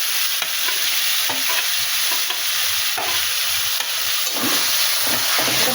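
Eggplant and tomato mash being stirred into fried onions for begun bharta, with a steady loud sizzle and hiss of frying under repeated scraping stirs, no voices.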